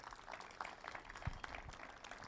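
Faint, scattered applause from a small gathering thanking collaborators at a ceremony before a ribbon cutting, with light claps sounding fairly distant.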